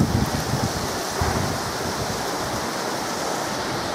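Heavy rain pours during a thunderstorm outdoors, a dense, steady broadband hiss close to the microphone, slightly fuller in the first second and a half, with no voices.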